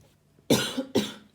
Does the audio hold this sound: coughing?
yes